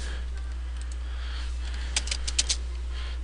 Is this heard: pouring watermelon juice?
no